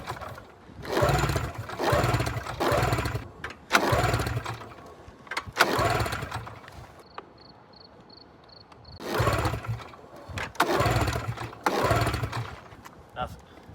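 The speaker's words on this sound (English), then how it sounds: "This thing is probably going to start and scream" Yamaha Phazer II snowmobile engine cranking in repeated pull-start bursts that sputter without catching, loud and close, with a brief pause and faint beeps between attempts.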